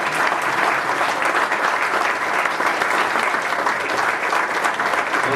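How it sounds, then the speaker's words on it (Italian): An audience at a book presentation about Aiello, a village known for its sundials, applauds in a thick, continuous wash of clapping that holds steady and fairly loud throughout. "meritano veramente un grande applauso per tutto quello che loro hanno fatto"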